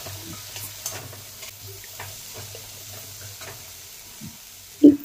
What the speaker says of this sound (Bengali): তারপর সমস্ত মশলা লো ফ্লেমে আস্তে আস্তে করে আমি ভেজে নিচ্ছি।